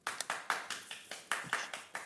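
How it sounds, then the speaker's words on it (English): A few people clap during a live craft broadcast, sharp distinct claps in a loose, uneven rhythm, quiet and close, with no other sound between them. "Levi and Laura are clapping as well"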